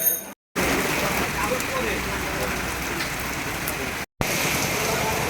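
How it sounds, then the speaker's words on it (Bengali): Heavy rain pours steadily outside a shop, a dense continuous hiss close by with two brief dropouts in the sound. "এতটাই বৃষ্টি হচ্ছে বৃষ্টির আওয়াজটা দেখতে পাচ্ছ"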